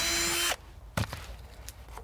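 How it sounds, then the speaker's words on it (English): A power drill with a sharp bit whirs loudly and steadily for about half a second, then cuts off, leaving a quiet room with a few faint knocks and clicks. "Nice sharp drill bit."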